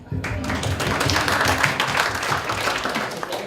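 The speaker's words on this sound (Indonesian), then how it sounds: "Karena tepuk tangannya untuk bidan." An audience breaks into applause for midwives at a public forum, a dense, steady burst of many hands clapping that carries on for a few seconds, with voices mixed underneath.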